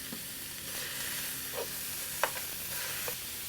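Ground chuck beef, 80-20, sizzles softly in a hot skillet while being stirred and chopped, with a steady low frying hiss and a few brief scraping clicks of the utensil; no talking.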